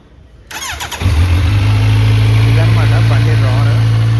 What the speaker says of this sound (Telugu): బండి స్టార్ట్ చేద్దాం.